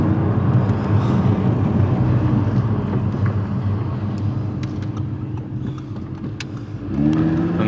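A fast car drives off, its engine and tire roar loud and steady from inside the vehicle, with a brief surge in engine pitch near the end; no talking.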